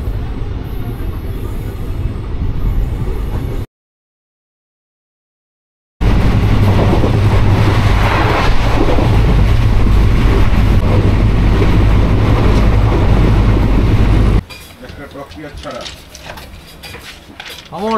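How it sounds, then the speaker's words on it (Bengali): Teesta Torsa Express train rolling along at speed, a loud continuous rumble and rattle of the carriage with clattering, cut by a brief gap and ending in quieter rolling noise. "একদম রাইট টাইমে কিন্তু ট্রেন যাচ্ছে"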